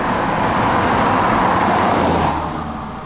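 A BMW Z1 two-seater open-top sports car driving through a corner, its engine and road noise loud and close as a steady drone, easing off slightly near the end, with no talk.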